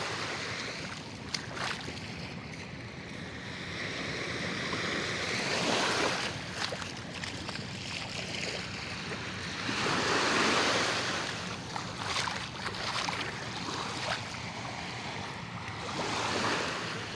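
Calm sea waves wash steadily around a fishing boat at anchor, soft surf swelling and fading in slow surges with light wind buffeting the microphone throughout.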